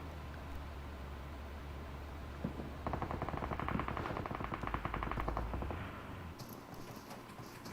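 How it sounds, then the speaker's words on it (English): Rapid bursts of automatic gunfire crackle through a PUBG Mobile esports match, the shots at mid distance and clustered in dense rattling volleys over a steady background rumble, with no voices heard. "I hear a lot of gunshots."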